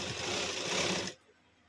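A sewing machine stitches piping dori for a blouse, running in a fast, steady mechanical whir for about a second before it stops abruptly, leaving near silence, close and clear with no voice over it.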